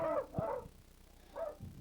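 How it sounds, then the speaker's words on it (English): Hunting dogs bay at a wounded wild boar in a 1970s hunt, giving two close, loud barks followed by a shorter yip, with brief gaps between them. "The dogs move right in, of course, because the boar is hurt bad."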